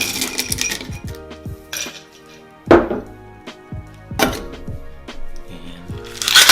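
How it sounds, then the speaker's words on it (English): Ice cubes dropped into a cocktail, giving a few sharp clattering cracks and knocks close up, with steady background music running underneath. "And we will add our ice."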